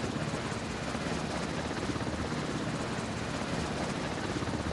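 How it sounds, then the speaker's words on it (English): An enemy helicopter closes in during a naval battle in the mobile game Warships Mobile 2, its rotor and engine making a steady, even drone. The drone is fairly faint and continuous, with no voices over it. "Enemy helicopter closing in."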